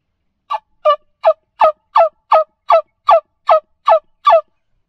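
Eleven quick, evenly spaced yelps from a wing-bone turkey call, imitating a turkey gobble, close and clear with nothing else heard.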